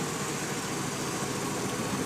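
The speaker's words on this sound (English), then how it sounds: "It's got just a little bit of lope to it, but like I said, extremely quiet exhaust" Chevy 350 Vortec V8 swapped into a 1976 Datsun 280Z idling with a slight lope through a very quiet exhaust, a steady close, low rumble with no voices.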